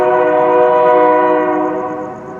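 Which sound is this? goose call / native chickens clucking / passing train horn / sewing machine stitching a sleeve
passing train horn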